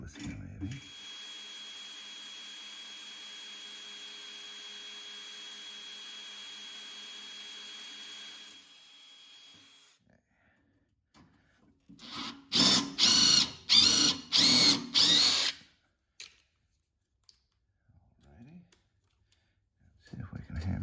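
A power drill bores a pilot hole into a stripped screw with a Hercules screw extractor kit, first a long steady whine, then several loud short bursts after a pause, with a few quieter sounds at the end.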